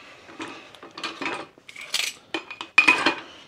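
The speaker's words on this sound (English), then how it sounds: "All I seem to do in this house is wash dishes." Dishes being washed in a home kitchen in Wales, with cutlery, plates and pots clinking and clattering in irregular bursts, close up and with no voices.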